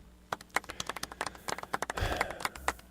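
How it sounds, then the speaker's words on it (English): A light, sparse golf clap from a small audience at a live bass guitar stream, a few scattered soft claps close by with no talk over them. "I expected more than a golf clap there"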